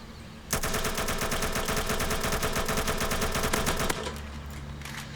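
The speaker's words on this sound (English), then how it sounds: "Now we're going to be testing it with the AK." An AK rifle in the video game Mad City fires a rapid sustained burst of about three and a half seconds, loud and evenly paced. Quieter game ambience comes before and after, and no one speaks.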